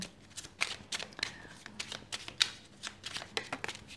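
Tarot cards shuffled by hand in a series of quick, crisp riffling bursts with short pauses between them, close and fairly quiet, with no talking over it.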